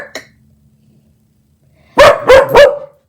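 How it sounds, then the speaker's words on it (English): A dog barks three times in quick succession, close and loud, after a short faint sound and a quiet pause. "Bark. Bark. Bark."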